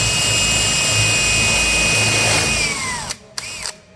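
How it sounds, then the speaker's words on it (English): Power drill boring a hole through scrap timber, a steady high whine under load for about three seconds that winds down as the motor stops, followed by two short bursts of the trigger. "And we're just going to drill a hole"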